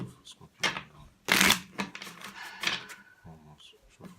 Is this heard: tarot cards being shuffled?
yes